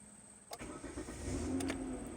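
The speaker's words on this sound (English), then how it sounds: "And the car starts." A Kia car from around 2010–2013 starting with its push-start button: a brief crank catches and settles into a steady, low engine idle, heard close and fairly quiet, with no talk.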